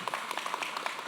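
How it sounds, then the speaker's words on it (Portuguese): An audience applauds a city councillor at a municipal event, a short stretch of soft, scattered clapping heard from a distance. "Essas palmas foram muito merecidas pelo seu trabalho."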